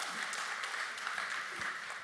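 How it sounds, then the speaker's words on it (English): Audience applause after a talk at a Bitcoin conference, a steady wash of many hands clapping at a distance, fairly faint and even throughout with no talk. "want to give a big round of applause for Paul."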